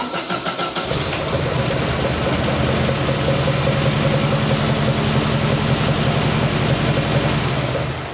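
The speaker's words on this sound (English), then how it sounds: "After that little adjustment, now the engine starts up fairly quickly" A classic race car engine, freshly adjusted at the carburetor and ignition, catches after a brief crank and settles into a loud, close, throbbing idle with an even, rapid pulse that holds steady to the end.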